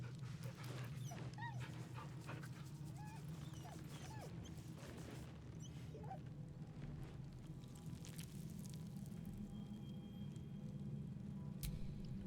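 In the video game Baldur's Gate 3, a dog lets out a series of soft, high whimpers and small yips, close and fairly faint over a low hum of background game ambience, with no speech.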